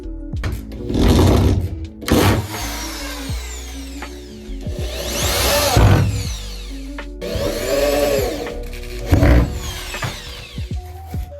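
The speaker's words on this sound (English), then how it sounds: "I'll put a screw in each of these so that they all match up" A power driver runs a screw into a piece of sheetrock during a ceiling hole repair, in several short whirring bursts separated by pauses, close and fairly loud.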